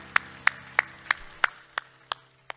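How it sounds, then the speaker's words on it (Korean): A church congregation claps in unison during a Korean worship service, eight sharp, evenly spaced claps in a steady rhythm over a low sustained organ or keyboard tone. "우리 하나님께 영광의 박수합시다."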